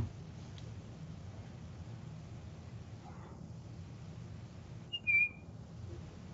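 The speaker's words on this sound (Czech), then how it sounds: "při vstupu do stáje zapískal" A person whistles once on stepping into a cattle barn, a short, thin tone in the quiet, low-humming stable.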